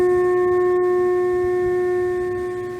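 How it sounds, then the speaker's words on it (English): A steady pure electronic tone for the square shape, with quieter higher overtones, holds alone and unbroken throughout, fading slightly at the end. "And now you're going to hear the sound of the square."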